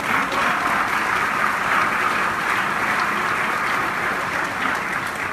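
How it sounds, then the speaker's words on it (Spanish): A packed forum audience at a Kenworth Mexicana event applauds, producing a dense, continuous wash of clapping that stays loud and even from start to finish. "Un aplauso para todos ustedes."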